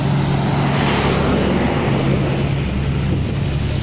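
An Águia Branca coach bus, fleet number 50.010, rolls past on the road. It is a loud, close, steady roar of engine and tyre noise that holds for a few seconds with no voices.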